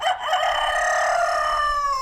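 A rooster crows in one long, loud, sustained cock-a-doodle-doo, close to the listener, with no talking.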